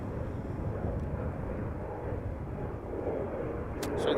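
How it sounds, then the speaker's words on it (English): An Embraer 190 jet departing Amsterdam Schiphol Airport produces a distant, steady broadband roar that swells slightly toward the end, heard alone without talk. "Embraer 190 going to Gdansk"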